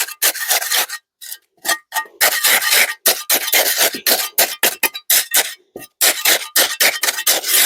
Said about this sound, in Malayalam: ഇതിനെ ഒന്ന് കുത്തി കുത്തി നല്ല മിക്സ് ആക്കി കൊടുക്കാം